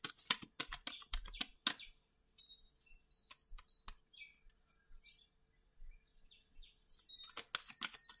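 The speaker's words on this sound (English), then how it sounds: "Getting easier to like shuffle these cards." Quick, crisp flutters of cards being shuffled at the start and end, with soft clicks and faint chirps in between.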